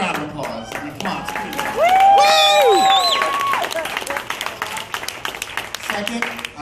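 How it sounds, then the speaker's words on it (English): A wedding reception crowd applauds and cheers during a best man's speech, with dense clapping and excited voices, a few whoops, and chatter mixed through the noise. "I'd like to say, I give them a round of applause"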